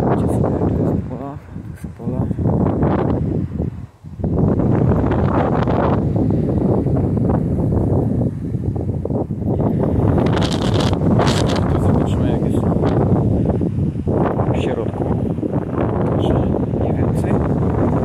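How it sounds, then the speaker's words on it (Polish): Strong wind buffets the microphone continuously in loud, rushing gusts outdoors at an infantry field bunker in Kiedrzyn, Poland, with a brief lull early on before the roar returns. "Wiatr wieje"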